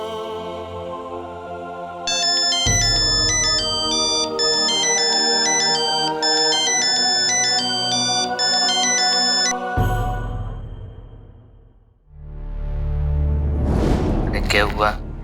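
A mobile phone ringtone plays a loud, repeating electronic melody for several seconds over dramatic background music in a Hindi crime drama, followed by a booming whoosh.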